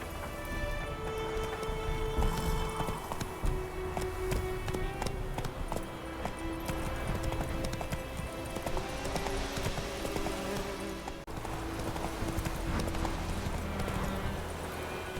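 Horse hooves clip-clopping in the video game The Witcher 3, a steady rhythmic trot running under layered game music and ambience, fairly quiet throughout.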